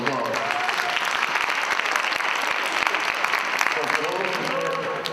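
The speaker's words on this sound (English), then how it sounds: "Give yourself a quick round of applause." Audience at a TEDx talk held at Carver Military Academy breaks into dense, steady applause that holds at an even level for several seconds before easing off slightly near the end.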